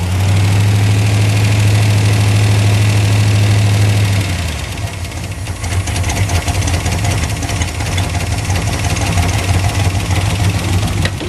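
A car engine runs loud and close in a parking lot, a deep steady idle rumble that shifts abruptly partway through, then settles into a rougher, uneven running note.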